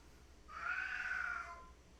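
A house cat lets out one loud, drawn-out meow, its war cry, rising and holding for about a second before trailing off, close by and alone against quiet room hum.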